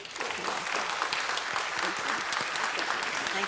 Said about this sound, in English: give a great big round of applause and congratulations to our friend, our colleague, and an inspiration